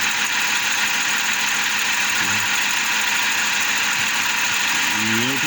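A Hyundai HR diesel engine idles close by with a steady, loud drone and a ticking, knocking injector noise, while someone talks briefly over it.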